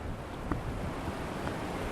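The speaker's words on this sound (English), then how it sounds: "it's really, really windy, so I think this is probably coming through" Strong wind buffets a microphone outdoors along a river walk near the Astoria Column in Oregon, a steady loud rumbling roar with a small thump, continuous throughout and no voice over it.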